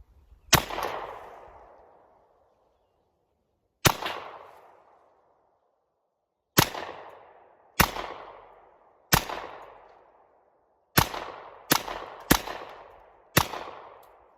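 Nine sharp, loud gunshots from a Hi-Point .45 carbine firing Browning 45 ACP rounds at green tea cans outdoors, irregularly spaced with short decaying echoes, the later shots coming in quicker succession.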